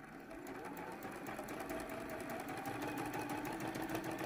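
Sewing machine running steadily for several seconds while chain piecing t-shirt quilt blocks with a quarter-inch seam, a close, continuous mechanical whir with rapid needle rhythm and no talk.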